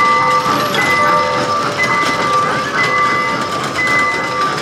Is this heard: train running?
yes